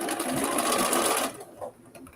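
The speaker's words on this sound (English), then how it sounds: "We're going to back stitch right here at the end." A sewing machine runs a fast, steady backstitch along a seam at the end of a pair of jeans, loud and close for over a second, then stops abruptly, leaving only faint handling sounds.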